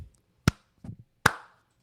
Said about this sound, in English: we'll clap